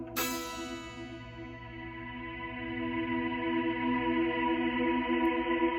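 A single strum on an electric guitar rings out through a Strymon reverb pedal, a bright attack at the start followed by a long, swelling wash of sustained tone with no talking.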